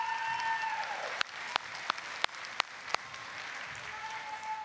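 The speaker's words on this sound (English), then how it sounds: "Let's give them a round of applause for all the work." Audience applause at a kindergarten graduation ceremony at a Christian school, steady clapping from a seated crowd with a few sharp, louder claps standing out near the microphone, lasting several seconds.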